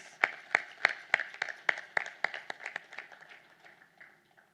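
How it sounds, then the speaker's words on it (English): An audience at an AVNL Foundation Day celebration claps: a scattering of distinct, fairly faint handclaps, each sharp and separate, that thins out and fades away to silence. "I want you all to give a bigger round of applause, please."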